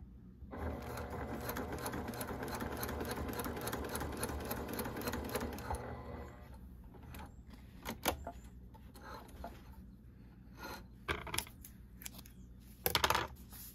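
A Brother PQ1500SL sewing machine stitches through thick vinyl and Decovil light with a fast, steady mechanical chatter for several seconds, followed by quieter clicks and sharp handling knocks nearby.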